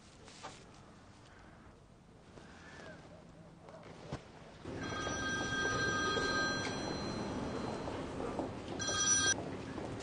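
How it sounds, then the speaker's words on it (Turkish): A telephone rings with a steady electronic trill in repeated bursts, over a low background hum and room noise. "Al telefonu, Macit'ini ara."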